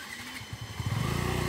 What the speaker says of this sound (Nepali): हाम्रो बाइक चाहिँ यहाँ रोक्न लागेको छ अब